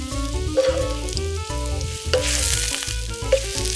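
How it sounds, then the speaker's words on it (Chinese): Mushrooms stir-fried in hot oil over medium-low heat, with a steady close sizzle and crackle and a scrape of stirring running throughout. "中小火煸炒菌菇。"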